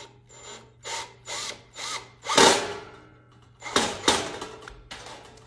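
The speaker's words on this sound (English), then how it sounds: "Then you're gonna screw it together." A power screwdriver drives screws through vintage silver platter pieces, giving several short whirring bursts in a steady rhythm and then two louder, longer runs, close up, with no talk over it.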